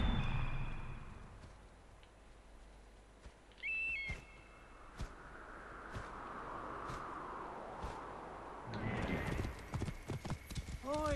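Clip-clopping horse hooves with an occasional whinny from enemies on horseback in Assassin's Creed Origins, set against a busy game-like soundscape while a person talks over it.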